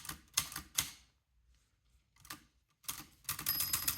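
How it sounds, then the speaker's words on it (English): Stanley Kubrick's typewriter from The Shining, under repair, clacking out a few bursts of keystrokes with a quiet gap between them; close and crisp, with no talking. "The keys are typing well, except the semicolon."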